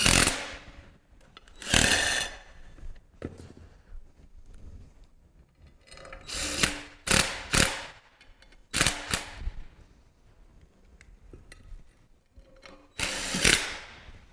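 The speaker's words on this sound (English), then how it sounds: "Simply tighten the bolts in." Bolts being tightened on a manual pump come through as several short, loud mechanical bursts separated by quiet pauses, with no talking.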